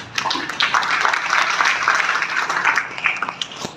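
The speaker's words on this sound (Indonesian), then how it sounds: "beri aplaus untuk Pak Aris" An audience at a local civil-defence gathering claps for a guest, a dense, fairly loud burst of applause that rises quickly, holds steady for a few seconds, then thins out.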